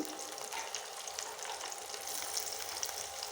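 Onions, garlic and dried chillies fry in a pan for a Mawa Ghat-style hilsa fish tail bhorta, giving a continuous soft sizzle and crackle with faint stirring and no talking.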